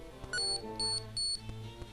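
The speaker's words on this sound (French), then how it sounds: "Le petit bip bip bip, hein, c'est pour vous dire" Electronic alert from the point-and-click video game Gobliiins: three short, bright beeps in even rhythm over soft game background music.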